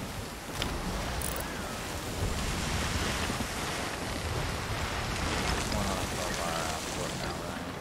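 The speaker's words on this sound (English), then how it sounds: "I'm just careening through the waves right now." Ocean waves wash steadily as a ship sails through them in the pirate game Sea of Thieves, a continuous broadband rush with wind, fairly faint and unbroken.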